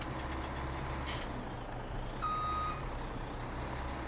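A Volvo truck in Farming Simulator 17 sounds a short run of steady reversing beeps over a low idling engine rumble, with the beeps clear but fairly quiet.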